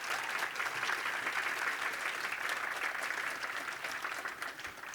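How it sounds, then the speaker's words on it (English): An audience at a regional panel event applauds the panelists with steady, dense clapping that holds throughout, slightly distant in a large room, tapering a little at the end. "Let's give them another round of applause."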